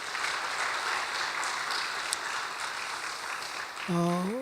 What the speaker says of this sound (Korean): 하나님께 영광 박수 한번 돌리겠습니다